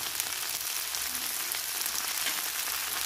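Prawns with turmeric, coriander and chili powder sizzle in a pan for a spicy prawn and potato curry, a close, steady crackling hiss throughout.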